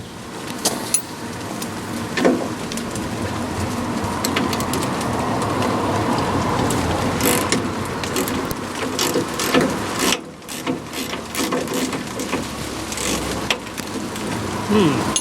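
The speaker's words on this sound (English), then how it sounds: "It's raining." Steady rain patters on a surface outdoors, a dense hiss with scattered drips and some background noise throughout.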